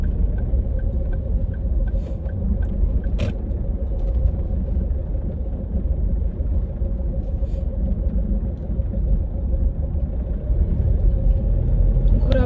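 A manual car rolling off as the clutch is let out during a driving lesson, a steady low engine rumble holding through the whole stretch with a faint hum above it and a brief click partway in, no voices over it.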